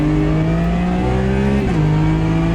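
A race car engine at Spa in Automobilista 2 holds a loud, steady high drone close up, with the pitch shifting briefly partway through as the car changes gear or throttle.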